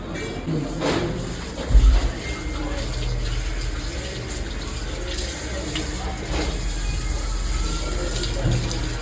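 Tap water runs steadily into a sink while hands are washed at a bar and restaurant in Malpe, a constant close gush with a few brief knocks and faint background voices.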